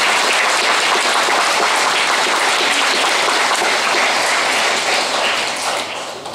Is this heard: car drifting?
no